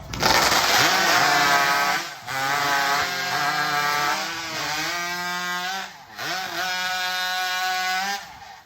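Chainsaws roar loudly through timber at a timbersports competition, the New England Cup 2023, with steady high-pitched engine whine that dips briefly between cuts and rises again in pitch as the saws bite, continuous and close.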